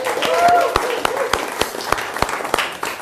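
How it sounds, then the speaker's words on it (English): An audience gives a round of applause for a volunteer called up on stage, a dense steady wash of many hands with sharp individual claps standing out, lasting throughout. "Give Ashley a big round of applause"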